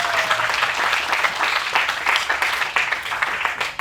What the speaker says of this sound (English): The second clap is for President Joe Biden